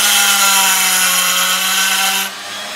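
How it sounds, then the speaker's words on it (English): A Dremel rotary tool grinds steadily at the wheel of an old tin toy crane, a loud continuous high-pitched whine with a steady hum that cuts off abruptly near the end, leaving a quieter motor tone. "But I'm going to use this Dremel."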